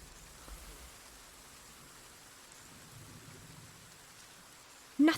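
Continuous rain hiss in the video game Pillars of the Earth, with low rumbling beneath, fairly even throughout, ending in a brief louder burst.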